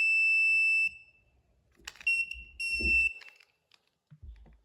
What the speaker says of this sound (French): Quand l'appareil détecte un objet magnétique puissant, il déclenche une alarme.